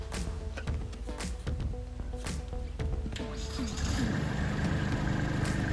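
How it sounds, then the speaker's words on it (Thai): A Kubota B2740S compact tractor's diesel engine runs steadily at idle, fairly close, with a low continuous rumble that rises slightly near the end. "เครื่องยนต์ติดง่ายนะครับ เครื่องปกติ"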